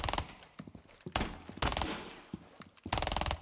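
Video-game gunfire from an automatic weapon, fired in rapid bursts of sharp, crackling shots with short gaps between them, loud and close, with no talking.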